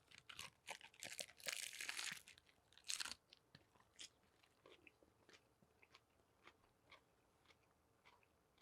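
A healthy hot dog is bitten into with loud, close crunches in a dense burst. Softer chewing and crinkly crunches follow, spaced out at a steady pace, with no talking.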